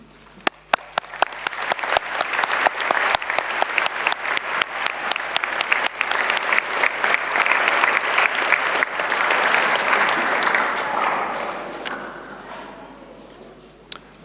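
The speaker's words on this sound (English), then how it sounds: "join me in a warm round of applause for this distinguished group" An audience at a conference opening ceremony claps loudly and steadily for about fourteen seconds, the applause swelling, holding, then thinning out toward the end.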